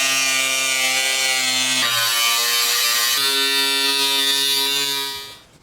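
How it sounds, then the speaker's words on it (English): A power tool cutting out the inner side of sheet-metal rear tubs on an NSU, a loud steady high-pitched whine with a pitch shift midway that runs for several seconds, then winds down and stops. "I'm able to cut out the inner side of these tubs"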